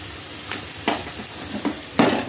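Ginger frying with cauliflower in a pan, a steady sizzle running throughout, with a few short stirring scrapes on top, heard close.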